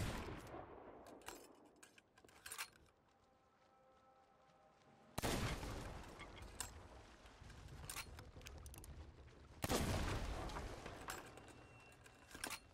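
Ship cannon fire in the Sea of Thieves pirate game: several heavy booming blasts with a long sustained roar, bursts separated by quieter stretches of sloshing water and creaking.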